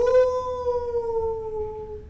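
A human voice imitates a wolf howl, giving one long, clear, sustained tone that slowly falls in pitch, close and alone.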